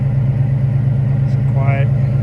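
1965 Fastback car engine idling with a steady low, even rumble, briefly joined by a faint higher tone near the end.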